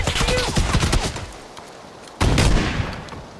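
Gunfire in the PUBG battle royale game, a loud close burst of rapid shots that fades, a brief lull, then another sharp volley of automatic fire.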